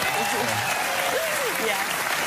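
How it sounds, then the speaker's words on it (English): Studio audience applauding for Dakota Fanning on a daytime talk show, a dense steady wash of clapping filling the room, with a voice speaking faintly beneath it. "Can we get a round of applause for Dakota Fanning?"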